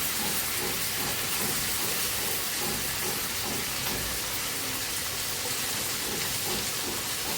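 Sweet corn and chillies fry in hot oil for a fish-head biryani, giving a steady dense hiss and crackle that stays loud and even throughout, with no talking.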